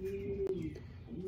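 A racing pigeon coos nearby, a soft, steady low murmur held through the whole moment, with a brief clatter in the middle.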